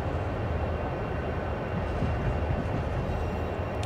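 A CSX heavy-haul freight train in Train Sim World rumbles steadily through a rail yard, a continuous low roar of rolling wagons at moderate volume with no talk.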